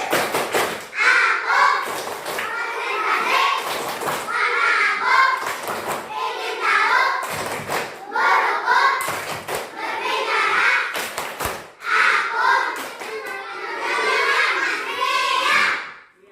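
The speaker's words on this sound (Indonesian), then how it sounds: "Tepuk konsentrasi." Schoolchildren in a classroom perform the "tepuk konsentrasi" clapping chant, a long run of rhythmic hand-clap patterns mixed with chanted voices in unison, loud and close, repeating in phrases.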